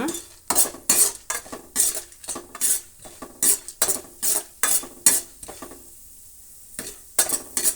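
Chana dal frying with mustard seeds and cumin in a pan, stirred by a metal spoon that scrapes and clanks in rhythmic bursts over a soft sizzle, with a brief pause near the end.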